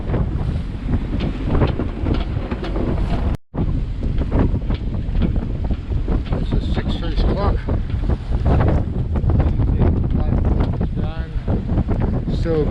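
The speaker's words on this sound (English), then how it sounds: "Still gusting 20 to 19 knots of wind, a bit more than we wanted" Gusty wind of around 20 knots roars past a sailing boat heading into the wind, a loud continuous rush with breaking water and creaking rigging, briefly cut out by a dropout.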